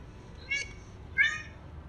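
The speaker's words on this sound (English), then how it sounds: "A meow in the bushes on COC's Valencia campus" A stray kitten in bushes on a college campus gives two short, high meows about half a second apart, close and fairly clear over a quiet background.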